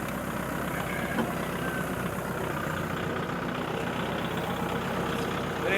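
A farm tractor engine runs steadily at a low, heavy idle, a loud, continuous close-up rumble without pause throughout.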